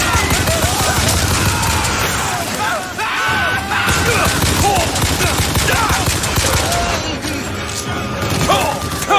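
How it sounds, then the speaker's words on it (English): Enemy gunfire aimed at the player in the video game Bioshock Infinite, loud rapid bursts of shots and impacts packed densely through the whole stretch, with a voice talking over the battle. "Stop firing at me."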